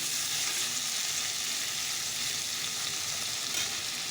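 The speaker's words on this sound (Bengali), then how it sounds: "চলো একটু নুন দিয়ে দিই দিয়ে ভালো করে ভেজে দিই" Onions frying in a pan with salt added give off a steady, dense sizzle that holds evenly throughout, close and moderately loud, with no voices.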